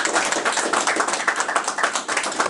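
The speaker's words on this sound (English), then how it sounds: "Give Dana a round of applause" An audience gives a round of applause for a speaker named Dana at an open mic event, steady dense clapping filling the room without pause.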